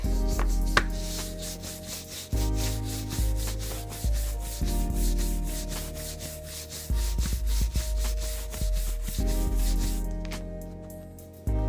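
Leather leash edges being rubbed and burnished by hand, a steady rhythmic back-and-forth friction that repeats in quick strokes, close and fairly loud, with no talking.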